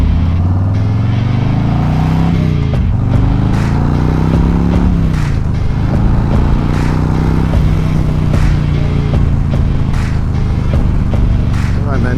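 A motorcycle rides on a windy day, its engine drone rising and falling through gear changes, with loud wind buffeting throughout and no talk.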